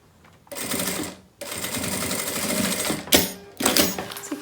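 A sewing machine stitches a beach bag made of plastic canvas in three close bursts of steady, whirring running, separated by short pauses.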